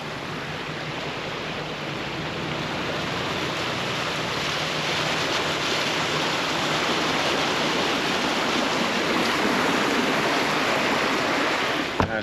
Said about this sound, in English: This is like rushing water.